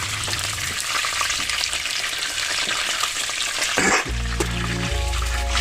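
Chicken pieces fry in a pan with a loud, close, continuous sizzling hiss that stays steady for several seconds, then a sudden shift to a low humming tone takes over near the end.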